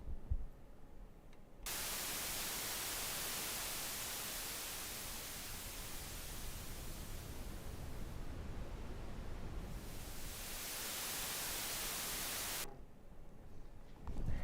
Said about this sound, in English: the white noise generator sounds like this